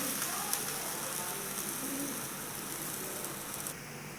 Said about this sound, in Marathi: सर्व बाजूने तेल लावायचं म्हणजे एकदम खरपूस धपाटं भाजलं जातं